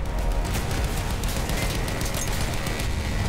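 Sustained machine gun fire in the World War I shooter Battlefield 1, a dense, loud rattle of rapid bursts that runs without a break, layered over heavy low battle rumble.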